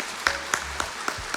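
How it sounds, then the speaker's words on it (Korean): A church congregation claps in welcome during a Sunday service, with a few sparse, distinct claps spaced evenly over a brief moment, moderately close, with no voices. "우리 함께 다 같이 감사와 환영의 마음으로 박수하겠습니다."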